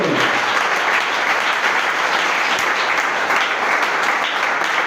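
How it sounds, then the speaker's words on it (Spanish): A church congregation applauds the Lord, dense sustained clapping filling the room evenly from start to finish with no voices standing out. "¡Aplaude al Señor!"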